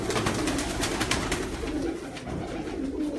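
Golden pigeons on a rooftop coo continuously at close range, a dense, rhythmic throaty burbling from several birds over constant rustling noise.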